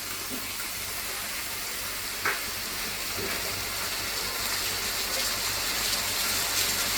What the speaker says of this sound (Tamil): வெங்காயம் வதங்கினோடனே தக்காளி சேர்த்துக்கோங்க.